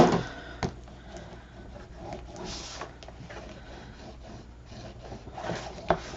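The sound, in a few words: burnishing paper down for a wedding album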